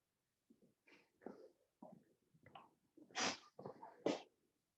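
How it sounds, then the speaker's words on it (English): Someone nearby blows their nose in a series of short, forceful snorts and honks, the last few bursts louder and harsher than the first. "Sorry about that, I had to go blow my nose."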